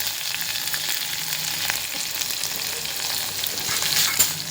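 Garlic, curry leaves, onion and coriander fry as a tempering in hot oil over a high gas flame, giving a loud, steady sizzle with a crackly hiss and light stirring throughout.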